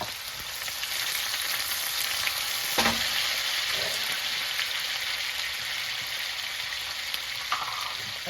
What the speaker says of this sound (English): I'm going to add a cup of chopped pineapple.